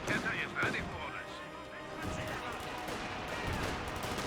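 A half-track fires repeatedly in the Company of Heroes 2 strategy game, its booming shots and crashes dense and mid-distance under layered battle noise, with a commentator talking over it.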